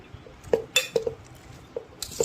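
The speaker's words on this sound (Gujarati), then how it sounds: "હવે આ બધી જ વસ્તુને આપણે સારી રીતે મિક્સ કરી લઈશું આ રીતે" Ingredients for a fasting-style bhel are tossed in a bowl, giving a series of sharp clinks and scrapes of a spoon against the dish, spaced irregularly and close up, with no talking.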